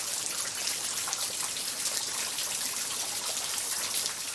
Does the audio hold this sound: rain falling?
yes